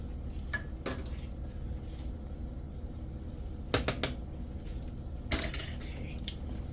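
Spaghetti stirred with two cheeses and butter in a metal pot, giving a few sharp utensil clinks and scrapes, close by and spaced apart, over a low steady hum.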